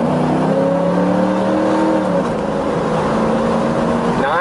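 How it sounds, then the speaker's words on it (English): Engine of a Cadillac convertible with Pininfarina styling, driving steadily with a smooth, continuous hum and faint road noise, close and loud without a break. "Nice driving, nice smooth driving car"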